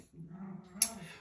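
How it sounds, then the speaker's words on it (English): Dogs playing in the background of an indoor acrylic fluid-art painting session: soft whimpers and low growls run throughout, with one sharp, brief yip near the end, all fairly faint and distant. "excuse my dogs in the background,"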